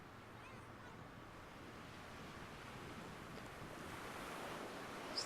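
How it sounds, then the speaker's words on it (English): Ocean waves washing onto a beach, a soft, steady broadband surf wash mixed with light wind noise, fairly faint and distant, swelling slightly toward the end. "It's like the waves flowing here."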